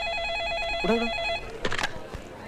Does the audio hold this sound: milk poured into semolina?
no